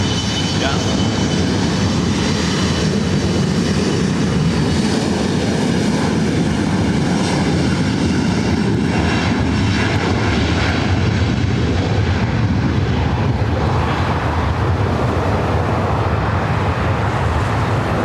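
Airliner taking off at LAX, its jet engines roaring loud and steady throughout, with faint talk and tower radio chatter partly heard beneath.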